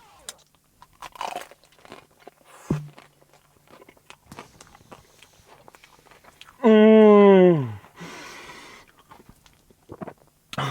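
A trompe-l'oeil peanut praline treat is crunched a few times, crisp and close, between stretches of quiet. A voice breaks in loudly partway through with a long exclamation.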